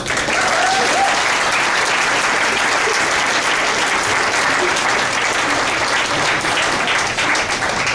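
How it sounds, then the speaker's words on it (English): A crowd at a softball team celebration applauds the first-year head coach, with dense, steady clapping that stays loud and continuous for the whole stretch and carries no speech over it. "let's give a round of applause to our first year head coach, Caroline Cubbage."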